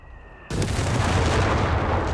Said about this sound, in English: Mortars exchanging. Heavy mortar.